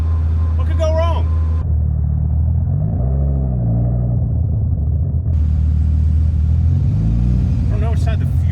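Engine-swapped Nissan 240SX driving, a deep engine rumble that swells as it accelerates and then eases, heard from close inside the car, with brief voices at the start and end.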